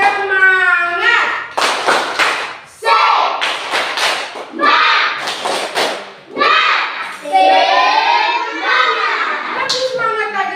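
Children in a classroom group activity perform a rhythmic 'tepuk semangat' clapping chant, bursts of hand claps alternating with loud sung and chanted voices in a lively, patterned rhythm.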